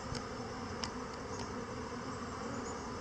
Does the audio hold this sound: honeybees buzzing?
yes